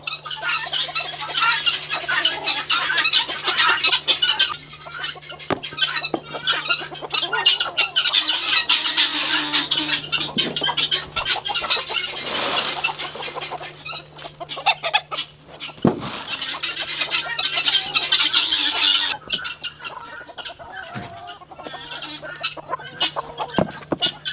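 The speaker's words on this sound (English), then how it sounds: "That chicken right there coming through the fence, that's an escape artist." A flock of homestead chickens clucks and squawks continuously and close by, a busy overlapping chorus with occasional sharper squawks over a steady low hum.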